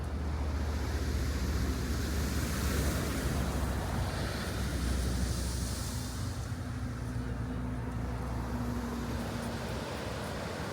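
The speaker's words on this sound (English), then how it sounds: "The sound of the waves is so soothing." Ocean waves wash steadily onto Miyuki no Hama beach in Odawara, a continuous broad surf roar with some wind noise, fairly distant and unbroken, with no voices.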